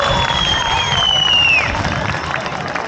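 A festival crowd claps and cheers at the 56th Keles Kocayayla culture festival, loud massed applause with shouts and a high whistle sliding down over the top.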